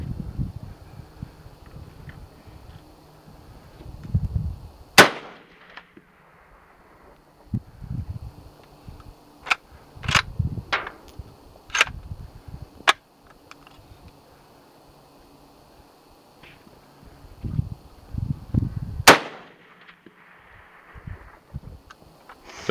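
A custom Mosin Nagant rifle fires two sharp, loud shots several seconds apart outdoors, each with a brief echo, among softer clicks and handling noises and quiet breezy background.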